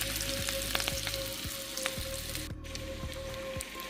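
Meat involtini filled with cheese fry in a pan over moderate heat, giving a steady soft sizzle with small crackling pops, close and fairly quiet with no voices.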